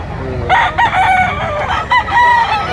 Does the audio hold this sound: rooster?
yes